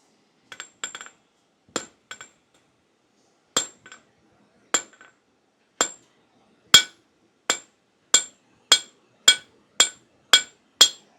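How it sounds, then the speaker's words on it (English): Sharp metallic rounding-hammer strikes on steel ring out, first irregular and sparse, then settling into a steady, loud rhythm of about a dozen evenly spaced blows. "first we're going to use us rounding hammer, flatten it out a little bit"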